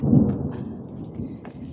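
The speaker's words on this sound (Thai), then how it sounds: "ลูกเห็บตกจ้า เนี่ยลูกเห็บตก" Hail pelting a house during a storm in Finland, a low rumbling patter of ice hitting the roof and surfaces, steady and moderately loud with no voices.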